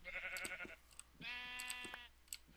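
Two clear sheep bleats from a Minecraft modpack, FTB Monster, sound close and fairly loud, a short wavering call followed by a longer sustained one, with a small click between.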